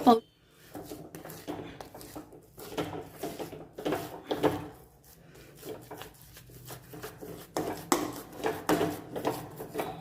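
A spoon scrapes and clinks repeatedly in a pan as jaggery is stirred into hot, thickening semolina, with irregular soft scraping strokes and occasional sharper knocks. Someone talks throughout.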